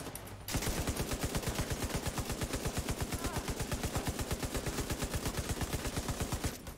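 A goop gun in the video game The Division fires a steady rapid burst of regular, machine-gun-like pops, loud and close, running without pause for about six seconds before stopping.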